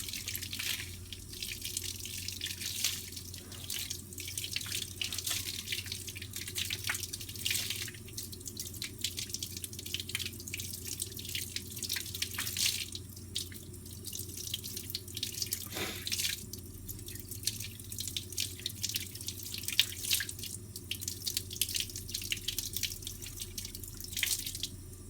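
A vacuum cleaner filter from a Panasonic upright is rinsed with soap under a running tap into a sink, a steady close splashing wash with scattered drips throughout and no voices.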